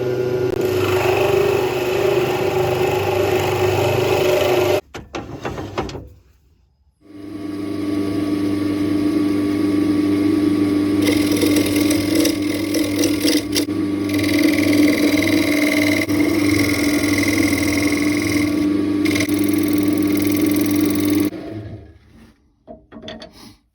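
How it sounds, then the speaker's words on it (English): A woodturning lathe bores a 30mm hole using a Forstner bit held in a Jacob's chuck, giving a steady whirring, grinding drone that breaks off briefly and then resumes until it stops near the end. "we're just going to start with a 30mm hole in the front of this using the Jacob's chuck and a 30mm Forstner bit"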